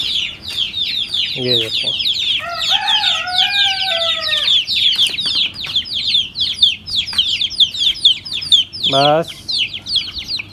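Small chicks cheeping loudly and continuously in a close, dense chorus, joined midway by a few louder hen clucks and a short rooster call, with someone briefly speaking over them.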